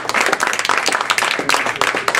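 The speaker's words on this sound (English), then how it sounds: "let's have another warm round of applause for our speakers" An audience at a debate-style event claps steadily, a dense, close round of applause that continues without pause.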